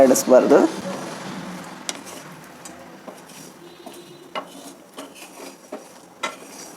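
A spoon stirs spicy peanuts roasting in a hot pan, giving scattered light scrapes and clicks, with a louder rustle at the start and quieter strokes after that.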